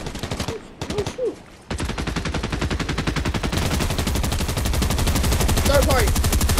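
Gunfire in the video game Fortnite: rapid automatic bursts crackle loudly in quick succession after a short pause, with brief voices speaking between the first shots.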